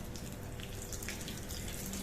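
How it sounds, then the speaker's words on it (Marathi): Water poured into a mixer grinder jar, heard as a continuous close splashing rush that lasts throughout, with no talking. "आता मिक्सरच्या भांड्यात थोडं पाणी ओतून ते पण घालूया."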